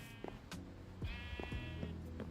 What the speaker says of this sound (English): I can hear the sheep being sheared